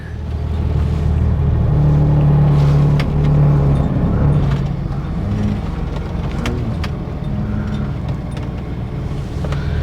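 An old tow vehicle's engine idling nearby, a loud steady low rumble with a faint droning hum that eases slightly partway through, with no talking.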